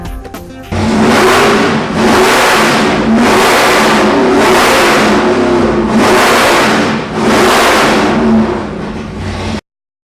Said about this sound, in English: This is our new 428 cubic inch twin turbo Ford based, it's a Ford based off of a Windsor.